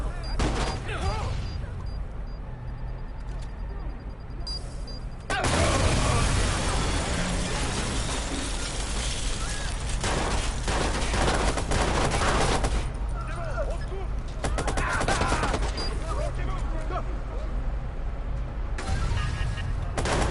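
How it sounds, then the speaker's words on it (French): In a video game firefight, a grenade is thrown and sustained gunfire rattles in dense, loud volleys, with a sharp jump in intensity partway through, while players talk over the action. "je lance une grenade"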